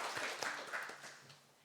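Applause from a church congregation during an early-morning Monday worship service, a soft, brief patter of clapping that fades out over a couple of seconds.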